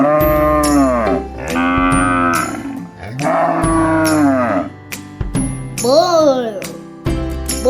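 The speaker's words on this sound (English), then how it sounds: "I'm a cow." A cow moos in long, loud, drawn-out calls at a farm, three or four rising and falling lows following one another with short gaps, one of them bending sharply in pitch.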